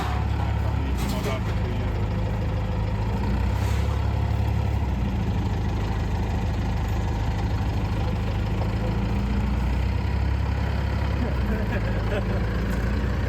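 Continuous low rumble of a tractor engine running steadily at close range while pushing a boat to winter storage in a boatyard in Greece, with a few faint clanks and knocks over it.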